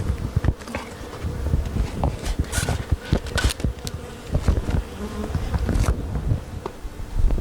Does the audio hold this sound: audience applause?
no